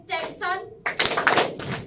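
Students clap hands and slap their thighs on a teacher's call-and-response cues in a classroom game, a few sharp rhythmic smacks following a woman's spoken prompts.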